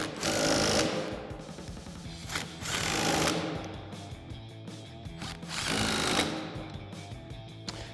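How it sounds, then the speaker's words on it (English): Impact wrench with a 15mm socket tightening strut bolts while installing a front leveling kit on a 2021-2023 Ford Bronco, heard as three loud rattling bursts with short pauses between them. "We'll grab our 15mm socket on our impact and tighten these down."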